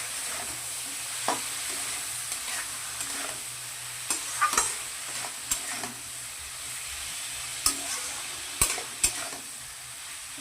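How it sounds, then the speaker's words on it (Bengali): Eggplant, onion and tomato fry in a pan, with a steady sizzle underneath and sharp, irregular scraping clicks of a spatula stirring the vegetables, close and alone without any voices. "ভালো করে সবজিগুলোকে মিশিয়ে নিতে হবে"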